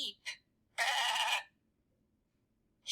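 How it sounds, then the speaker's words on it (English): A single sheep bleats loudly and close by, a wavering cry lasting under a second, with short hissy sounds before it and at the end. "Sheep."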